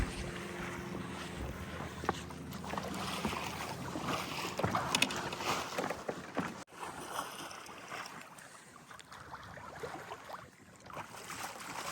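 A Freedom 28 sailboat under way on saltwater, with steady wind rush over the microphone, soft water swishing against the hull and some creaks and knocks aboard, fairly quiet throughout.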